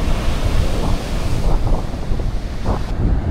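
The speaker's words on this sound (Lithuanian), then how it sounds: "Nėra bangos žiauriai didelės, bet nemažos." Sea waves break on a Sicilian shore in a continuous rushing surge, heavily buffeted by wind rumbling across the microphone, with no voices.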